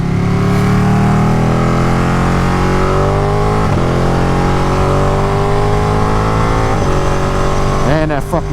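Ducati 959 Panigale motorcycle engine revving loud and close, pitch climbing steadily through the gears with short quick-shift breaks, a rising engine note ending the run.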